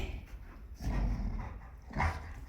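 Golden retrievers scuffle at home with low, rumbling growls and a couple of louder snarling bursts, close by and fairly quiet, with no talk.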